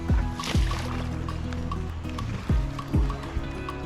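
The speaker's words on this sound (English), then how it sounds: "It's a small boat." A small boat moves through river water with soft, faint sloshes and several short splashy strokes recurring irregularly against a quiet background.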